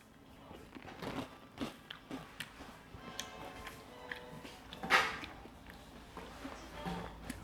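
Kellogg Kakao Friends coconut cereal being eaten, with close crunchy bites and chewing in irregular bursts, one sharper crunch partway through, and no talking.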